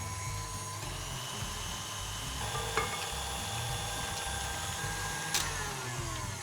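Stand mixer running at low speed as eggs are beaten into cookie dough, a steady continuous motor drone with a low rumble, close and even throughout, with a couple of faint clinks.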